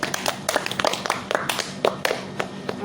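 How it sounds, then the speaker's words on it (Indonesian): A classroom group of students claps for a classmate during a group guidance and counselling session, a brief patter of overlapping hand claps with uneven rhythm, fairly close and without speech. "Oke, beri aplaus buat Mas Agung"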